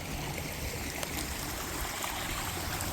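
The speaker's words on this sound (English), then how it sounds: "water's coming in through the culvert here" Rainwater rushes through a culvert into a pond in Central Texas, a loud, steady, close gurgling flow that continues without a break.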